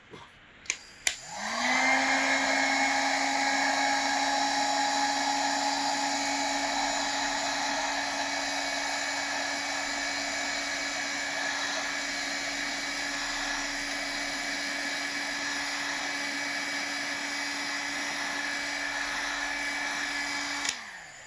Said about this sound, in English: we're going to heat it a little bit with the heat gun